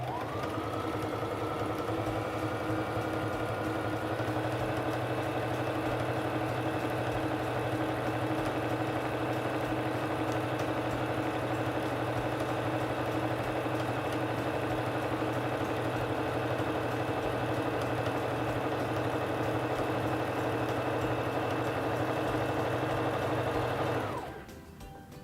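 A Singer Fashion Mate 3342 sewing machine sews fabric with a steady, continuous motor hum and rapid needle chatter for over twenty seconds, then winds down abruptly at the end.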